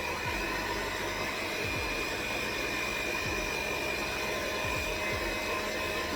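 An electric mixer whirs steadily on low while mixing cinnamon roll dough with an egg, giving a constant close motor drone with occasional dull thumps as the dough turns in the bowl.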